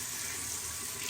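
Tap water runs steadily from a faucet to wet a stiff-bristled brush, a brief, even, close rush of flowing water with no speech.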